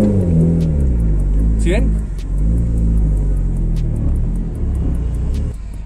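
A manual car pulls away in reverse up a hill, its engine a loud, close rumble that rises briefly as it moves off, while someone speaks over it.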